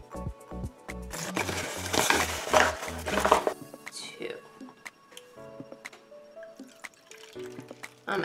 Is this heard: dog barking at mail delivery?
no